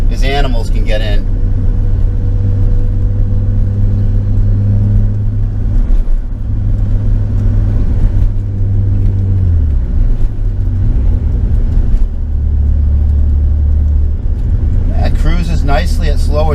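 A 1988 BMW 325iX cruises at slow speed around town, its engine giving a steady, close low hum and rumble with mild rises in pitch, while someone talks over it throughout.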